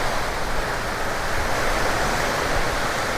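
Typhoon Enteng lashes Ilocos with a dense, loud, unbroken roar of wind and rain gusts and no voices.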